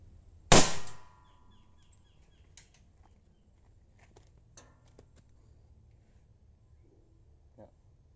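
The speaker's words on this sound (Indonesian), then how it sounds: "Tembakan kelima mimis kiloan." An air gun fires a single sharp, loud pellet shot near the start, followed by a brief ringing decay and then faint handling clicks in a quiet outdoor setting.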